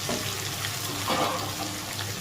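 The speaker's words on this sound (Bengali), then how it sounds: "এবার ঢাকনাটা খুলেই ভাজবো" Chicken fries in an uncovered pan, a steady close hiss of oil with a short burst of louder bubbling in the middle and no talking.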